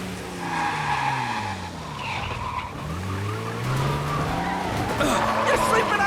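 A car skids through a chase in the game Mafia: Definitive Edition, with loud, sustained tire squeals that rise and fall over engine roar while someone talks over it.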